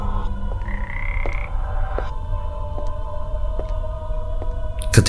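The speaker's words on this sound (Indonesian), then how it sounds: "Suara katak menggema di keheningan malam itu." Frogs croak loudly from a small garden pond at night, a steady chorus of repeated calls with some overlapping higher trills, alone with no voices.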